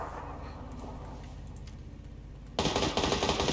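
Automatic gunfire in PUBG, a steady rattle of rapid shots that surges suddenly loud and dense near the end, with no talk.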